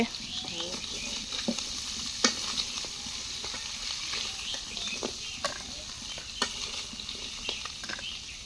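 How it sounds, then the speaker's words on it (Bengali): Crab pieces frying in a pan: a steady close sizzle runs throughout, with occasional sharp pops and scraping stirs of a utensil, and no talk over it. "কাঁকড়া ভাজা হয়ে গেছে।"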